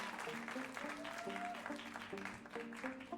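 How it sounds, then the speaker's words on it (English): Audience applause greets the top eight contestants at the 2019 Elite Miss Earth USA pageant, a steady wash of clapping under music with sustained tones throughout. "Give a round of applause for your top 8 in Elite Miss Earth"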